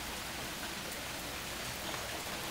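Steady rain falls outdoors, a soft continuous hiss of drops pattering on surfaces with no voices, fairly faint and even throughout.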